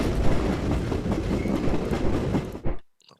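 A train carrying troops by railroad in a strategy video game rumbles with a steady clattering roar that ends abruptly, leaving near silence.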